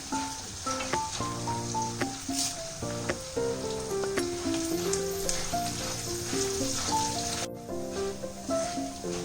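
Chopped garlic and two sprigs of curry leaves sizzle and crackle steadily in hot oil in a pan for a Kerala-style ginger curry, a close, continuous frying hiss heard on its own.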